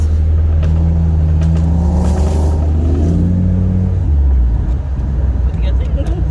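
A car with a 22R engine runs close by, a loud, steady low drone that shifts pitch slightly as it revs, with a voice over it.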